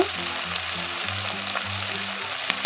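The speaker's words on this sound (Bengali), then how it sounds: "মশলাটাকে ভালো করে কষিয়ে নেব আমি" Spice paste sautéing in oil for a vegetarian cabbage dish, giving a continuous even sizzle with faint stirring scrapes, and a single sharp clink near the end.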